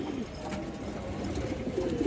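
Domestic pigeons, red-colored paired birds kept for sale, give soft low cooing amid a dull background murmur, close and faint.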